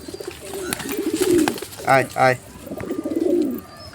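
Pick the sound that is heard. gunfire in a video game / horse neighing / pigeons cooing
pigeons cooing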